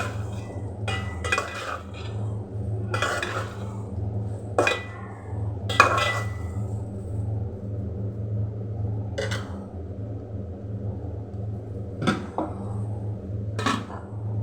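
Pieces of taro (kochu mukhi) stir-fried in spice paste in a pan, with intermittent metal spatula clinks and scrapes against the pan over a low steady hum.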